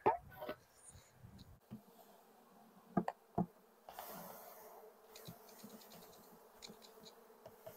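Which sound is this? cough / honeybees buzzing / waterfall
honeybees buzzing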